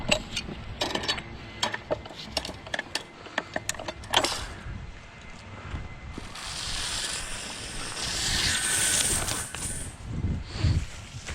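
A drain cleaning machine feeds a 3-inch cutter through a basement drain pipe, with rapid clanking and ratcheting knocks followed by a rising, sustained grinding whir and occasional thumps.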